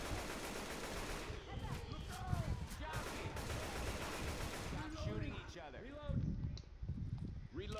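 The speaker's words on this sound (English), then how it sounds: "Stop shooting each other." Gunfire crackles in the Left 4 Dead 2 video game, bursts of repeated shots in irregular clusters beneath frequent talking from players.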